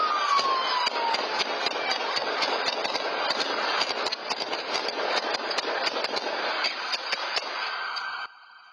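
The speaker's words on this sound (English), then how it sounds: "you hear that barrage of bullets, just so many gunshots there" A long barrage of gunshots during a police chase in downtown Houston, dozens of sharp cracks fired in rapid irregular bursts over a steady engine-like drone, loud and continuous until it cuts off near the end.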